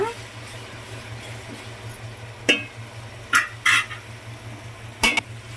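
Fish curry with onion and tomato is stirred in a pot: a few sharp spoon scrapes and clinks against the metal stand out over a steady low background hum.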